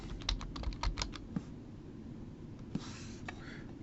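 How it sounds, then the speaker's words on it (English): Keys clatter on a computer keyboard in a quick burst of taps, then a few scattered keystrokes follow, faint and close. "I am typing."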